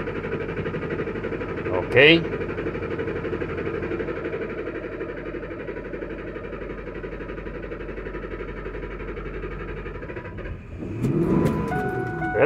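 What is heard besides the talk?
Ford F-150 engine cranking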